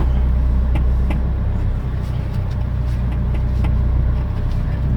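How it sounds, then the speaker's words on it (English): A car's engine runs with a steady low rumble as the vehicle is moved into sunlight, with faint clicks and a brief dip partway through. "we're gonna move the car to direct sunlight"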